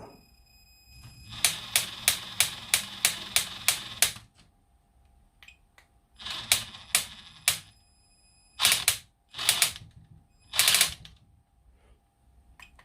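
An Axial XR10 1/10-scale RC rock crawler drivetrain with a drag brake gives close, sharp mechanical clicking in a run of about ten quick, even bursts. Shorter irregular groups of clicks follow after pauses, with no talk.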